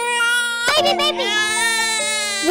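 A baby cries in a children's song, a loud, close, drawn-out wail that rises and falls over sustained backing music, with a brief break partway through.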